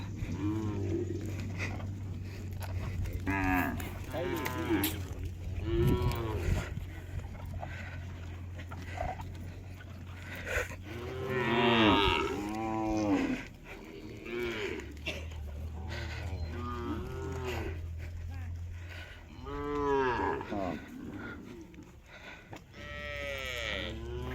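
A herd of cattle with calves for sale, mooing repeatedly; many loud, drawn-out calls overlap one another throughout, over a steady low hum.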